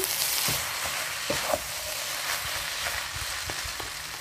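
Sotanghon cellophane noodles with sweet soy sauce, cooked without oil, being stirred in a pan outdoors: a steady soft sizzle with scattered scraping taps of the utensil, close and moderately loud, no voices.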